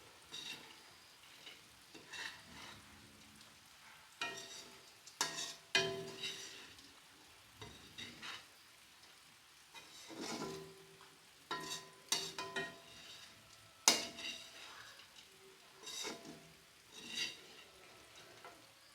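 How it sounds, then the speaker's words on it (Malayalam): Fried anchovies for a fish pickle are stirred in a pan, with soft scraping strokes coming in irregular bursts over a faint sizzle of hot oil, close and quiet, with no talking. "ഒന്ന് ഇളക്കി കൊടുക്കാം"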